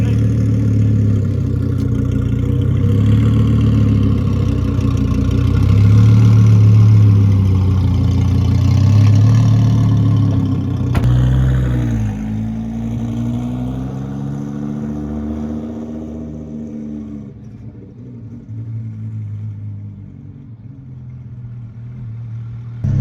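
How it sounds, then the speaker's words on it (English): The twin-turbo V10 of a 7X Rayo hypercar, a Lamborghini Huracan-based build tuned by Underground Racing to nearly 2000 horsepower on race fuel, idles loudly with a lumpy rumble, blips through a few revs, then settles and fades. "we got to hear the engine, prepared by Underground Racing, featuring nearly 2000 horsepower, running on race fuel"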